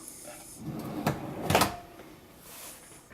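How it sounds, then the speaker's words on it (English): A handmade wooden kitchen drawer slides shut, with a couple of soft knocks followed by a sharper closing thud near the middle, close by in a quiet workshop. "And now we can finally close the drawer again."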